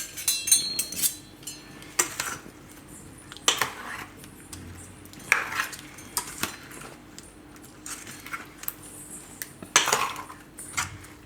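Tandoori cauliflower is stirred with a metal spoon in a bowl, a run of clinking, scraping strokes in irregular bursts, close and moderately loud with no talk.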